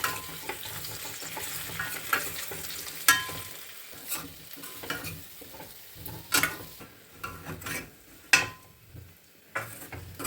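Baby potatoes frying in hot oil, an uneven crackling sizzle punctuated by frequent sharp spatula scrapes and knocks against the pan, loud and close with brief quieter gaps.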